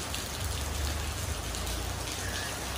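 Heavy rain pours steadily outdoors in Kerala, a dense, constant hiss of drops striking surfaces with no break in intensity.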